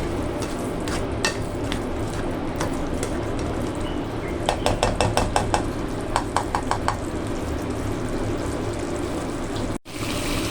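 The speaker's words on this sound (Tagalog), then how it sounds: "Haluin lang natin para mag-well combine ang kanyang sauce sa ating pork chop." Pork chops in tomato sauce being stirred in a pan, with a soft steady simmer underneath and a short run of quick metallic clinks and scrapes of a utensil against the pan partway through.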